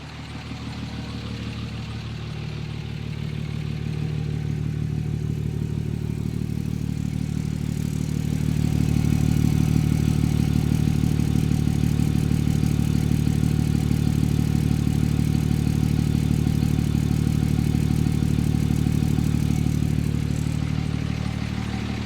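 A 5.9 Cummins diesel truck engine fitted with a 5-inch Magnaflow muffler rumbles steadily with a low, even exhaust drone that grows louder partway through and holds at that level, with no talking.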